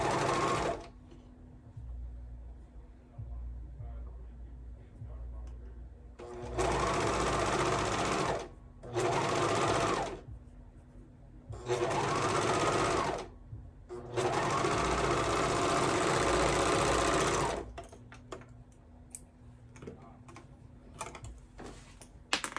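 A sewing machine stitches fabric for baby bell bottoms, running in loud bursts of a few seconds each with short pauses between, close up and without talking.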